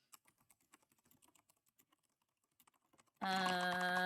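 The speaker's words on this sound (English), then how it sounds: "Sorry if the typing is really loud because now the mic is sitting right there above the keys." Close, quick computer keyboard taps, with the microphone just above the keys, rattle irregularly for about three seconds, then a loud sustained tone suddenly takes over.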